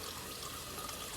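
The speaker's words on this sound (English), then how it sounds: "First thing I'm going to do is just turn my water on, make sure the pressure is good, temperature is okay, make sure it's warm." A warm-water tap runs steadily into a sink for handwashing, making a constant, even rush of flowing water, close and fairly soft.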